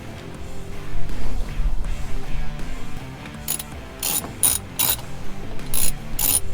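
Ratchet driving T30 bolts that secure the airbag on an Acura MDX steering wheel: a short run of sharp, close clicking bursts, loose at first and then a tight cluster of quick ratcheting strokes.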